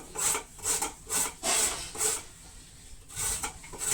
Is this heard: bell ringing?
no